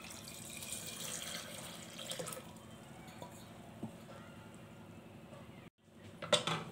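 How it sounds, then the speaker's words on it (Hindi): Water pours into moong dal with turmeric and salt in a pressure cooker, a soft continuous splashing and trickling at close range, with faint clinks before it stops and a brief handling noise follows. "पानी डालेंगे"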